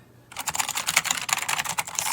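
Rapid typing on a SteelSeries Apex 5 Hybrid mechanical gaming keyboard: dense, steady clacking keystrokes, close and fairly loud, starting after a brief quiet moment and continuing without pause.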